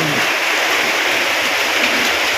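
Heavy rain pours down in a dense, constant hiss, loud and close, with no pauses.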